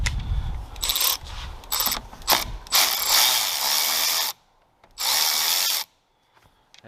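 Ratchet wrench loosening a nut on the power distribution block of a 2008-2014 Ford F150 with the battery disconnected: a few loud, close bursts of rapid clicking, with short pauses and a final separate burst after a silent gap.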